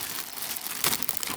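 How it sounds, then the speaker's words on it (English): Toy packaging for parakeets and budgies torn open by hand without scissors, a soft crinkling followed by a short, louder rip near the end, close and alone. "I'm just gonna rip it since I don't have scissors or a knife here"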